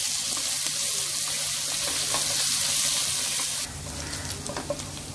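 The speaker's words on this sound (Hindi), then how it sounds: "इसके साथ भी हम 2 मिनट इसे फ्राई करेंगे।" Chopped ginger and green chili fry in oil in a pan with a steady, close, bright sizzle that continues throughout and eases somewhat toward the end.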